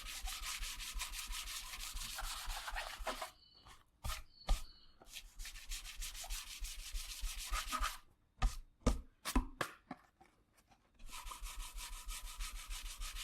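Rhythmic back-and-forth strokes of level sanding across the clear coat on an acoustic guitar body, steady rasping runs broken by short pauses and a few isolated scrapes, close and alone without talk.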